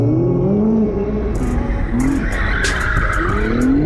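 Nissan GT-R cars skid in a mall parking lot, tires squealing in rising and falling whines over a loud, steady engine roar, with sharp bursts of squeal close by.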